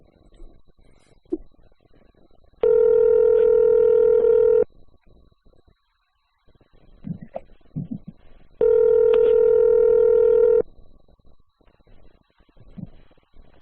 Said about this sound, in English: Let's see if he'll pick up the phone real quick.